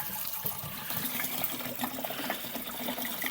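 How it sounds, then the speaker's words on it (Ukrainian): Mixed orchard spray solution poured into a garden sprayer already holding water, producing a continuous splashing, gurgling pour with no talking. "Перемішали ми і виливаємо в оприскувач."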